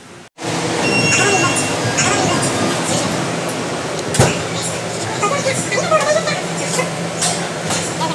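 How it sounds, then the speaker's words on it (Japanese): Steady loud rumble of a subway train in an underground metro station, a broad continuous roar with a sharp clunk midway, while a person talks close by over the noise. "今地下鉄の駅です。"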